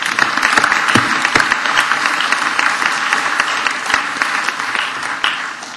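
Loud, sustained applause from a student audience at a 2008 election event, dense clapping throughout that tapers slightly toward the end.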